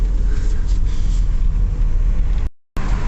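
Interior road noise of a Volkswagen Passat driven after rear shock absorber replacement, a steady low rumble of tyres and engine at a constant level, cut by a brief dropout near the end.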